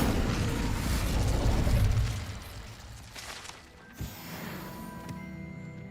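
Incendio fire spell cast in Hogwarts Legacy, a loud roaring whoosh of flame that fades after two seconds, followed by a sharp thump and lighter game effects.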